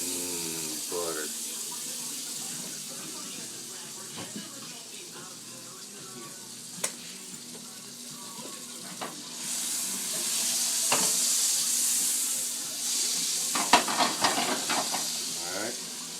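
Butter sizzles and hisses in a frying pan for garlic shrimp, a steady close fry that swells louder midway, with scattered clinks and a person talking over it.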